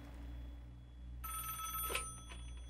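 In the horror game Five Nights at Wario's 2, a telephone starts ringing partway through with a bright electronic trill over a low background hum, moderately loud and with no talking.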